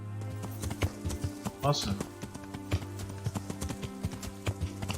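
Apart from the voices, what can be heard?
horse hooves trotting in video game Kingdom Come: Deliverance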